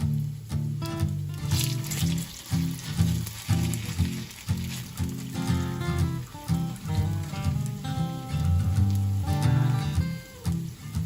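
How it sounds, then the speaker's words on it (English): Thick potato latkes with onion and garlic crackle and sizzle in hot oil in a frying pan, a busy popping spatter that continues throughout with small bursts and shifts in intensity. "So listen to that sizzle."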